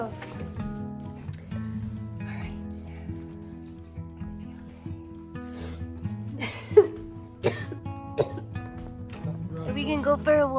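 A person coughs several times in short, uneven bursts, with a few throat-clearing sounds and faint voices in between.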